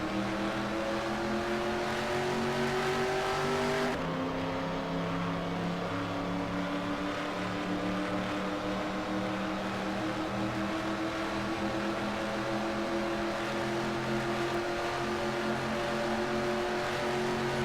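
A pack of race cars circling a track in the NR2003 racing game, a steady droning engine roar that holds throughout with a shift in pitch partway, no voices.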